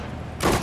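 Gunfire in the Sudden Strike 4 battle for Lille, 1940: a burst of dense rapid shots erupts abruptly after a low rumbling start and stays loud and close to the end.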